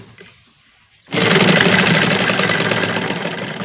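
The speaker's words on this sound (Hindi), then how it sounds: "इस वक्त चूँकि बिजली नहीं है तो मैं हाथ का मशीन इस्तेमाल कर रहा हूँ" A hand-operated sewing machine stitches a curtain, its steady whirring, knocking mechanism starting abruptly after a quiet moment and running continuously, loud and close.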